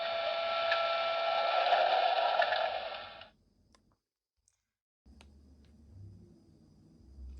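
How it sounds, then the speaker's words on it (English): Door-closing sound effect from a Trix EuroDuplex HO/OO gauge model train, a steady synthetic hiss-and-whir lasting about three seconds, then silence, followed by faint low rumble. "F9 is door closing."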